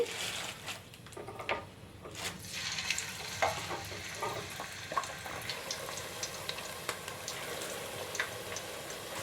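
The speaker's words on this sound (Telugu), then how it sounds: "ఇలా ఆయిల్ హీట్ అయ్యాక ఒక్కొక్కటిగా వేసేసుకోవాలి." Snack pieces deep frying in hot oil in a thick silver pan, a steady bubbling sizzle with scattered crackles and small clinks, no talking.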